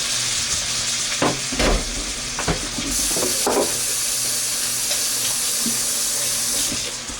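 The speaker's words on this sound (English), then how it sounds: "And listen to that beautiful sizzle." Salted trout sizzles in a hot Lodge 12-inch cast iron fry pan with a loud, steady crackling hiss. A few soft knocks and clatters sound over it.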